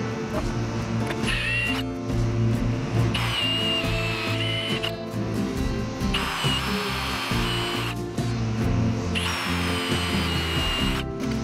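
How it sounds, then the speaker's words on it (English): A power drill with a Forstner bit bores a counterbore into wood for a pergola brace, the motor whining in several sustained bursts separated by brief pauses, close and loud with no talk. "I create a counterbore using a Forstner bit of an appropriate size."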